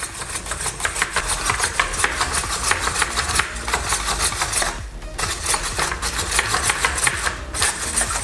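Small Raspberry Pi legged robot named Pippy walking forward, its servos and feet producing a steady, dense mechanical clatter of rapid ticking and whirring throughout, fairly close, with brief pauses near the middle.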